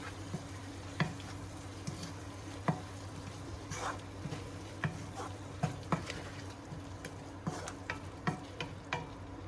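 Finely chopped shallot fries in a pan for a potato and pea samosa filling, a steady close sizzle with regular clicks and scrapes as the spoon stirs it every second or so.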